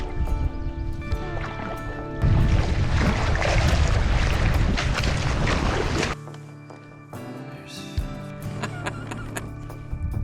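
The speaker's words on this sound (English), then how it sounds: "Nothing better than an early morning paddle to a fishing spot." A canoe paddled across a lake in the early morning in the Boundary Waters, with close, rushing water and stroke swishes for several seconds, then a quieter stretch with light knocks and drips, no talking.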